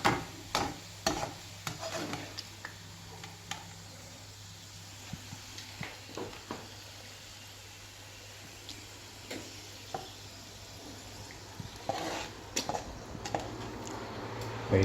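Raisins and cashews fry in a pan for a beef biryani, a steady sizzle broken by sharp, irregular clicks and scrapes of stirring, close and alone.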